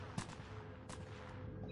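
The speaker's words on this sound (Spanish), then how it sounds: "¿Quién está disparando ese buey?" Distant gunfire in Modern Warfare on PS5, two faint sharp cracks about a second apart over a low, steady game background hum.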